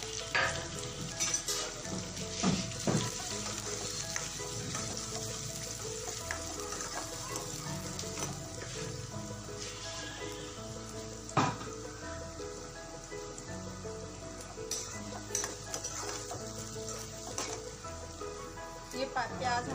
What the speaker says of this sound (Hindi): ये प्याज हमारे भुन गए हैं